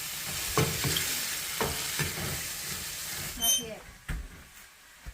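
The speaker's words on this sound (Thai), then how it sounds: "ก็เห็ดเหลืองที่ได้มาเดี๋ยวผัดเนยกินง่ายๆนะ" Freshly picked yellow mushrooms stir-fried in butter, with steady sizzling and scraping of a utensil against the pan, a few louder clatters standing out near the end, and faint voices underneath.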